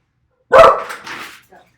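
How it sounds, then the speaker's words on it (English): Dog barking indoors, one loud, sharp bark followed by a couple of softer, shorter yips, close to the microphone with no talk over it. "sorry for my dog."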